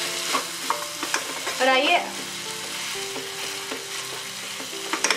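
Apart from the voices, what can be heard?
stirring pumpkin curry after adding coriander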